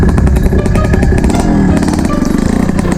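A Yamaha DT125 two-stroke motorcycle engine runs loud and close as if choked, its rough, sputtering exhaust pulsing steadily with a rattly edge throughout.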